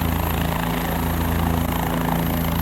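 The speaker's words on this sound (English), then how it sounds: "So behind me is the helicopter, and that is going to take off now." A helicopter at a helipad on a mountain pilgrimage route near Kedarnath and Sonprayag roars loudly and steadily, its rotor and engine drone filling the scene at close range.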